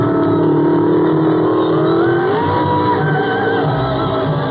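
A brand-new 1972 Flaming Fire Red Ferrari Dino 246 GT Pininfarina engine revs steadily, loud and close, its tone climbing partway through and holding high over a constant mid-range drone.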